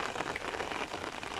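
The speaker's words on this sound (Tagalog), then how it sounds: "Umuulan kasi dito ngayon." Steady rain pours outdoors over a plot of chaisim plants grown for seed, a dense, even hiss of drops hitting surfaces close by with no voices.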